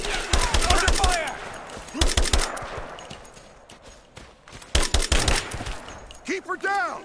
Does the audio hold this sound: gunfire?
yes